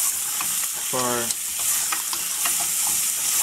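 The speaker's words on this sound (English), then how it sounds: "I'm adding the paya in there, and I'll cook this paya" Paya (goat trotters) fry in hot oil with onions, giving a loud continuous sizzle and crackle with scattered scraping stir strokes, up close and without speech.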